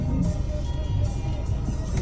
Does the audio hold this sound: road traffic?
yes